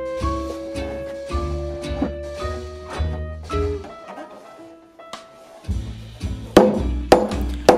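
Wooden legs of a homemade low couch table with a Go board are pounded into their holes: a series of sharp, resonant knocks in uneven bursts, loud and close, with ringing tones between strikes and no speech.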